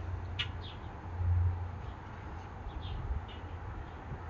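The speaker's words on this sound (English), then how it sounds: "You'll probably be able to see and hear a lot of birds, because there's a lot of birds in the area" Birds chirping by the Ohio River on a morning outdoors: a few short, faint, distant chirps over a steady low background hum, with no talking.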